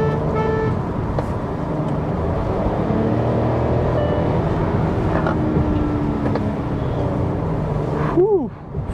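A Hyundai Venue SX with a 1.0 L turbo petrol engine and DCT gearbox driving through twisty sections, a steady engine drone with road noise inside the cabin, someone talking over it, and a short tone near the end.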